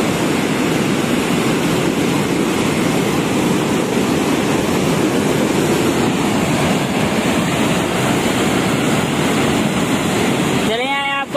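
River water surges through a large barrage gate beneath a bridge, a loud, steady, roaring rush of churning water that fills the scene without letup, with a brief voice emerging right at the end.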